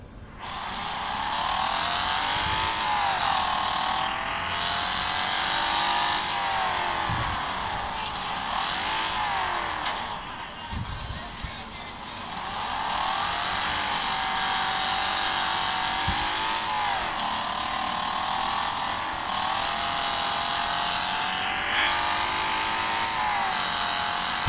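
Racing car engines in the Wreckfest Mobile video game roar steadily and loudly throughout, with repeated pitch sweeps as cars rev up and shift through gears over a constant game soundtrack.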